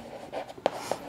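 Handwriting with a pen on paper while working a decimal multiplication answer, a faint brief scratch with a couple of small taps, quiet and close.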